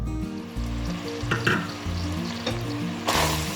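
Lamb kavurma simmers in a covered pot, a soft sizzling and bubbling over a low steady hum, with a brief metallic clatter near the end and no voices.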